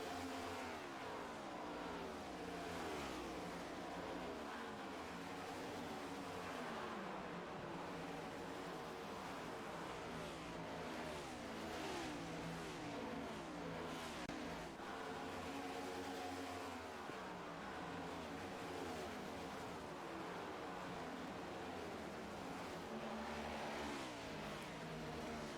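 Race cars roar around Kentucky Speedway in an HTL Cup Series Charity 350 event, a continuous loud engine drone with rising and falling revs as cars pass, no talk over it.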